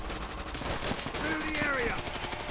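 Gunfire from a World War II battle in Call of Duty: World at War, a steady rattle of shots mixed with battlefield clamor and shouted voices over about two and a half seconds.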